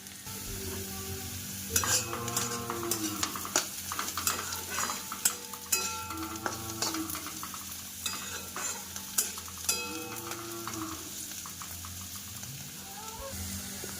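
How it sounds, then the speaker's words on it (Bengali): Carrots and beans stir-fry in a pan, a steady sizzle with repeated scraping and clinks of a utensil stirring against the metal, close and alone without talk. "তারপরে গাজর আর বিনস ভেজে নিচ্ছি"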